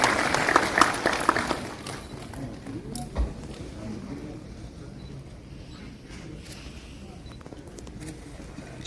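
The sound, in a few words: audience applause welcoming a speaker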